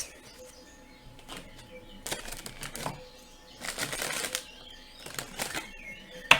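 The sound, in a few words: shuffling a deck of cards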